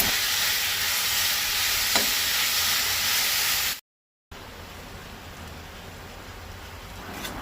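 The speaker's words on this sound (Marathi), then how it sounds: "2 टमाटां घेतल्या, ती चिरून घालता." Chopped tomatoes added to hot oil, frying with a loud, steady broadband sizzle for butter chicken masala, which briefly cuts out and then resumes a little quieter.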